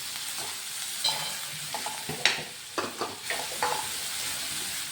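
Onions sautéing until golden brown for homemade Maggi noodles, a soft sizzle broken by several short stirring scrapes, fairly quiet and without talk.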